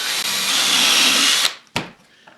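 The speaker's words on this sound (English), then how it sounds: "Drill another pilot hole" A power drill boring a pilot hole in wood while building a box joint jig, a loud, close, steady whine for about a second and a half, then a brief second burst.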